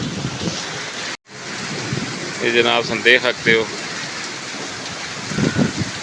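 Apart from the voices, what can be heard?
heavy stormy rain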